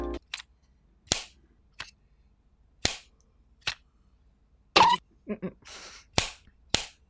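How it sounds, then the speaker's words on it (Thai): Sharp plastic snaps and clicks of an Edifier NeoDots earbud case snapping shut, several separate pops spaced irregularly, close up, with a brief murmur of voice between them. "เคสเนี่ยมันปิดสนิทปิดดังแป๊กแป๊กแป๊ก"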